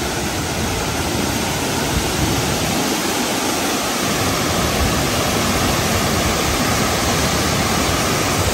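A very big waterfall near Da Lat, Vietnam roars as a dense, loud, unbroken rush of falling water heard from close by, with no other sounds standing out.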